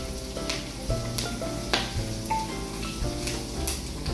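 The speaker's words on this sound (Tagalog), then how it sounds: "dito na rin ikikisa ang bawang" Garden-grown garlic sizzles as it sautés in a pan, a steady close frying crackle with a few light clicks and stirring touches, no talk over it.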